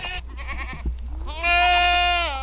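A goat lets out a long, loud, wavering bleat nearby on a farm, preceded by shorter, fainter bleating calls.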